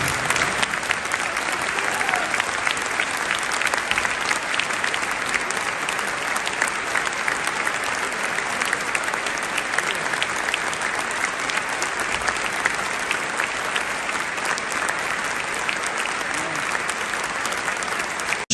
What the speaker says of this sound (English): The earthquake in Turkey and Syria with a moment of applause.